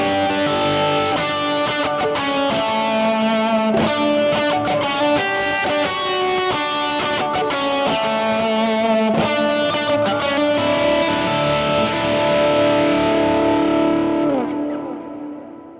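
A worship-style electric guitar hook riff with effects such as distortion and chorus, played as a sustained, rhythmic line of picked notes with echoing tails, loud and alone, fading out at the end.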